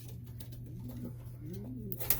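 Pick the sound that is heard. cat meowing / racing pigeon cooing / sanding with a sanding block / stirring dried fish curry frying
racing pigeon cooing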